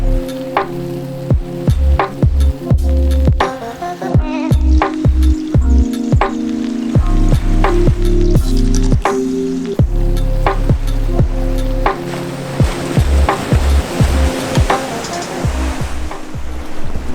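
Ocean waves wash steadily onto the beach by Flinders Pier in an unbroken, loud roar of surf, with a layer of close, crackling knocks and rustles running through it.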